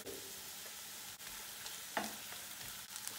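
Butter melting in a pan for a home-cooked dish gives a soft, steady sizzle and crackle, with a couple of faint clicks and one brief sharper scrape, no voices.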